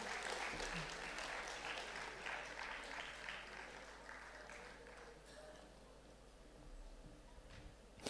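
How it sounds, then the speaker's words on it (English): Faint, distant applause rises from the audience in a hall at a school awards ceremony. It thins out gradually and ends with a brief louder burst. "at least you can clap for your peers"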